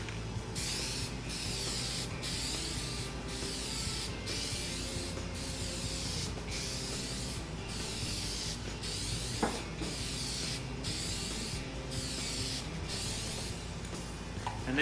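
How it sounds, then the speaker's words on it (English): A first coat sprayed onto a restored car headlight: a steady, close aerosol hiss broken by brief, evenly spaced pauses, with no talking. "we're getting ready to spray first coat"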